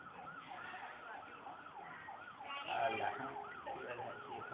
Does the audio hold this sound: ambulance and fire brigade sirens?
yes